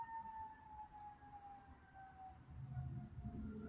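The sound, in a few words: emergency vehicle sirens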